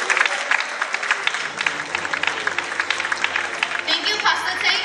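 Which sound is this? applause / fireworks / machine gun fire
applause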